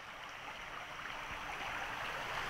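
Creek water flowing strongly at night, a steady, even rushing wash that holds constant from start to end with no voices over it.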